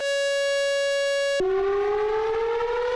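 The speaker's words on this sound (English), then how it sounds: "he doesn't hear any tornado sirens" A tornado warning siren holds a loud, steady tone, then abruptly drops in pitch and slowly climbs again in a long wail.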